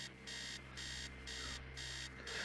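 An alarm clock blares upstairs in a neglected, abandoned house in the horror game Stories Untold, a steady electronic ringing that pulses in repeated bursts with short gaps, loud and continuous with no talk.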